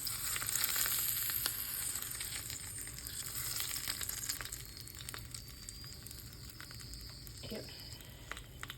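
Hot tadka tempering sizzles as it is poured over curd rice, a steady close hiss that is loudest at the start and eases slightly as it settles.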